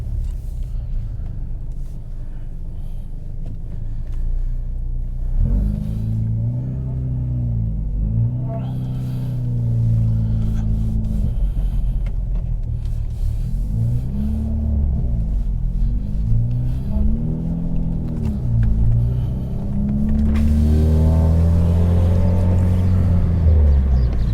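A cammed Mitsubishi Evo 9 engine rumbles nearby with a deep, lumpy idle, broken by several blips of revving. It grows louder toward the end, with faint talk in the background.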